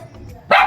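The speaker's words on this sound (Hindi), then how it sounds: "यहाँ पे बालकनी है जहाँ पे वो पोमेरियन भौंक रहा है" A Pomeranian dog on a balcony gives a single sharp, loud bark close by.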